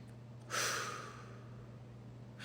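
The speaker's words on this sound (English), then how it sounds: "So I take a breathe in." A single deliberate breath drawn in through the nose, a close, soft rush of air that swells and then fades over a low steady hum in a quiet room.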